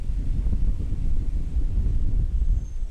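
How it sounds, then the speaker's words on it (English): Strong wind gusts buffet the microphone at an outdoor IBL baseball game between Toronto and Hamilton, a low rumbling roar that surges and fades continuously, loud and close with no other distinct sounds or talking. "he felt that strong gust of wind pushing him off balance in the batter's box"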